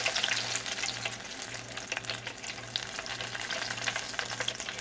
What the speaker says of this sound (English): So once this thing starts frying and solidifying, it'll kind of start floating and stay off the elements.